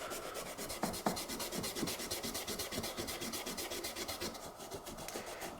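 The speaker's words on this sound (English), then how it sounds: "So if you're just removing rust here, here, and here, you have to kind of do the whole surface evenly" Rust rubbed off the steel blade of a Reiff F4 fixed-blade knife makes a fast, rhythmic back-and-forth rasping scrub, close and steady throughout with no talk.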